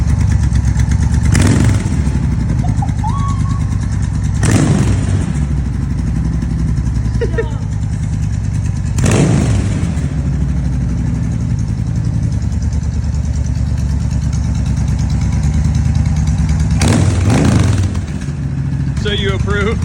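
An older Harley V-twin motorcycle idling with a loud, steady, close-up rumble, broken by four brief throttle blips at uneven intervals, while people talk over the engine.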